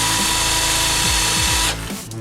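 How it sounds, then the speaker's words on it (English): A power drill runs hard and close while its bit enlarges a hole in the plastic front bumper of a Traxxas Stampede RC car, a steady loud whine with pitch dips under load before it winds down at the end. "I got a drill bit that was the same size as the hole, got it going, and then I pushed the drill bit down."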